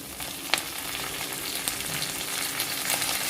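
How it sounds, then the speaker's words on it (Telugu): Crushed garlic and fresh curry leaves fry in hot oil with a steady, close sizzle and crackle, a few sharp pops standing out near the start; no one speaks. "ఇప్పుడు ఇందులో మనం తీసుకున్న 10 వెల్లుల్లి రెబ్బలు దంచి పెట్టుకున్నాము కదా, అది తర్వాత ఫ్రెష్గా ఉన్న కరివేపాకు వేసేసుకోవాలి."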